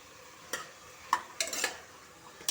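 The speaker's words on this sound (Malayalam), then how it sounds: "ചെറിയ ഉള്ളിയും ചേർത്ത് വഴറ്റി കൊടുക്കണം" Chopped small onions sauté in hot oil, heard as a quiet sizzle broken by a handful of sharp spoon scrapes and clinks against the pan, with no one speaking.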